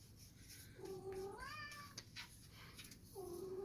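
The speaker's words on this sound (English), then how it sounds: "you hear our cat in the background." A cat meows a few times nearby, drawn-out rising cries with a quieter pause between them, under faint background noise.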